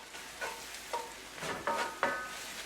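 Curry sizzles quietly in a hot pan over medium-high heat, with a handful of tosses and stirs, each a quick scrape or clatter that rises over the low steady frying.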